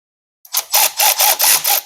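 A power tool loosens a 10 mm bolt on the clutch cover of a Harley twin cam 110 motorcycle: a close, loud buzzing whir that pulses in about six quick bursts after a moment of silence.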